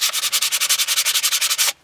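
Steady, rhythmic sanding strokes on brake calipers from a 2003 Forester, about nine per second, a close raspy scrubbing that runs evenly then stops abruptly.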